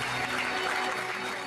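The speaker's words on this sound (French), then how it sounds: "Je vous demande d'applaudir notre ami Pierre Douglas." Audience applause at the Don Camillo cabaret in Paris, a steady wash of many hands clapping at moderate volume for the full moment, with no voices rising above it.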